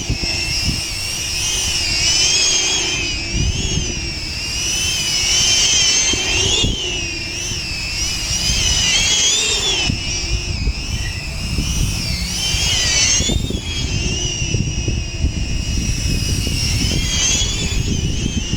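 A cinewhoop FPV drone fitted with 8-bladed props flies close by, its loud, high multi-tone whine rising and falling steadily as the throttle shifts, with no voices throughout.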